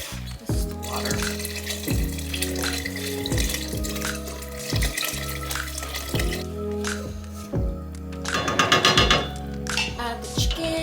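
Plain tap water poured into a soup pot for chicken and escarole soup, a steady close splashing and trickling stream with some pot clatter, no talking over it.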